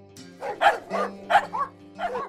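A few barks and yips from a dog, about five short bursts in an irregular rhythm, fairly close over a steady low hum.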